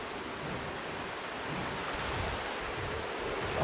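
Rushing waterfall ambience from the video game Pokémon Scarlet/Violet, a steady broadband roar of falling water that holds at a constant loud level throughout with no speech over it.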